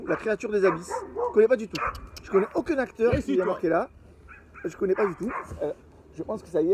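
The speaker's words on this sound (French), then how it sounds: "mais il aboie plus fort que tout à l'heure le chien là" A dog barks in bursts in the background, loud and agitated at moments, while someone talks nearly throughout in the foreground.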